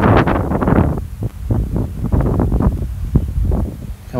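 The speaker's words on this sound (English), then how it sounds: "The wind is blowing again." Gusty wind on a German golf course buffets the microphone in loud, uneven rumbling bursts that swell and drop over a few seconds, with no voices.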